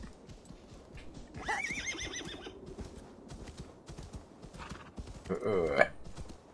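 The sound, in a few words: horse neighing in a video game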